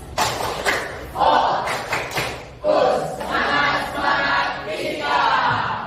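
A classroom of students joins in a rhythmic group clap routine, sharp thumping claps in short patterned bursts with voices chanting along between them, fairly close and loud.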